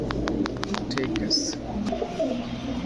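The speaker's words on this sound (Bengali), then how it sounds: "দর্শক দেখেন অ্যাক্টিভ কবুতর সবসময় ভালো লাগে দেখতে" Pigeons at a bird market make soft throaty coos over a continuous murmur of market crowd noise, with a short run of quick rhythmic clicks at the start.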